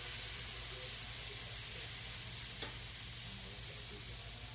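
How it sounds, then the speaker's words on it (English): Steady sizzling of food frying in a pan, a constant close hiss with a low hum beneath and one brief click partway through. "Y'all hear them frying over there?"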